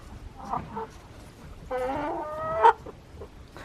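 Backyard chickens in a snowy chicken yard give several close clucks and one drawn-out tonal squawk between quieter gaps, against a calm outdoor background with no talking.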